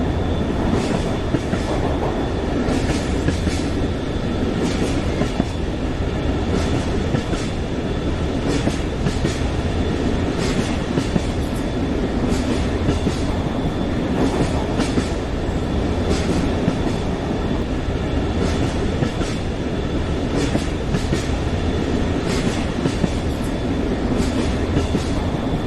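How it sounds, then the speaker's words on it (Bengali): A train running steadily, with a continuous loud rumble and repeated clacking of wheels over rail joints. The sound lasts throughout with no speech. "ট্রেন চলতেছে, কি ভালো লাগছে,"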